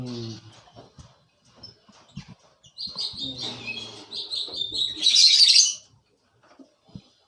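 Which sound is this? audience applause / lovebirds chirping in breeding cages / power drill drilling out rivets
lovebirds chirping in breeding cages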